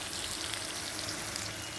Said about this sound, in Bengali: আলুটা আগে একটু ভাজা ভাজা আমি করে আবার ফিরে আসছি